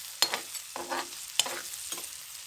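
Turmeric powder stirred into a sizzling pan of browned ingredients: four distinct scraping strokes over a faint background sizzle, close and fairly quiet.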